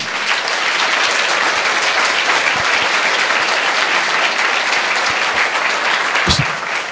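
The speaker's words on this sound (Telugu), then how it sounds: "గట్టిగా అందరూ కూడా చప్పట్లు కొట్టి ఒకసారి" An audience at a junior college hall applauds at the end of a talk. Loud, dense clapping continues evenly from start to finish.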